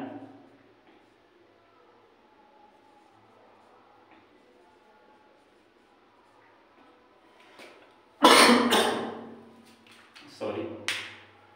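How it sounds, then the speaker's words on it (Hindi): A person with a scratchy throat coughs in a sharp, loud burst, then gives a couple more coughs close to the microphone, after a stretch of quiet, soft speech. "खांसी आ गई"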